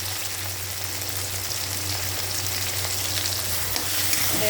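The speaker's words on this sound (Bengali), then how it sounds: "এটা তো দিয়ে দিলাম কেটে রাখা টমেটো, একটু নেড়ে নেব" Chopped tomatoes frying with onions in a pan while being stirred, a dense continuous sizzle with a low steady hum beneath, no voices.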